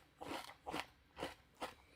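Crunching on Kellogg's Crunchy Nut Cornflakes, honey-coated cornflakes with peanut bits: four crisp, evenly spaced bites in a steady chewing rhythm, close but fairly quiet, with no talk.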